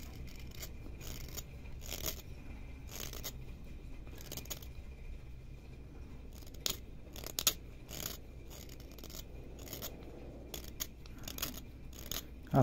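Sharp knife carving deeper into a handmade wooden tulip, giving a dry, scraping, crunchy cutting sound in short repeated strokes close up, with no talking.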